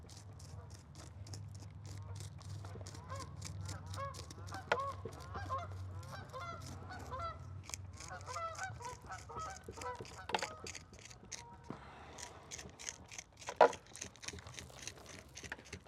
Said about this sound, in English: The songs of a Canadian honker or two flying overhead.